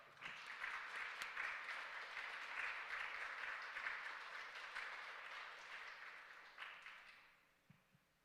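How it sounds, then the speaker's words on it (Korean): A church congregation claps during a Sunday morning service as gifts and flowers are presented to long-serving members, a broad, even wash of applause that holds for several seconds and then fades away softly. "선물과 꽃다발 전해질 때 함께 또 박수해 주시기 바랍니다"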